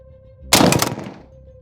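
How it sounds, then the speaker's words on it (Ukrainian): A single loud shot from a GM-6 Lynx rifle cracks out after a faint steady hum, its blast quickly decaying into a short rumbling tail. "Постріл."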